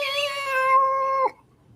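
A person imitating a cat, one drawn-out nasal meow of just over a second that cuts off sharply, close and clear, followed by near silence.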